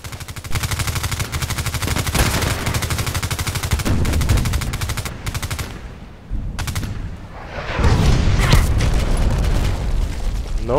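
Sniper rifle and other weapon fire in the online shooter Contract Wars, a loud, dense stream of rapid gunshots with heavy booming reports, briefly easing near the middle before surging again.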